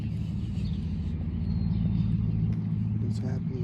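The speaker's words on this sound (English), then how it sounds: "I think the loud truck is taking off at the same time." A loud truck pulls away nearby, its engine rumble steady and heavy through the whole moment, with other traffic noise over it.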